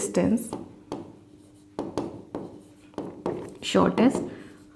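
Writing on a board during a class 10 maths lesson on circles: a series of short, scratchy strokes in uneven bursts, with a voice talking over them.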